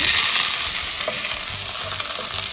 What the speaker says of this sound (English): I'm going to saute first the feet. This is the beef feet.